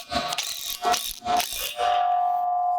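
A Tapcon anchor of large diameter is driven tight into a concrete footing to hold down a pergola post, heard as a run of close, rhythmic ratcheting clicks in short bursts, then a steady mechanical whir to the end.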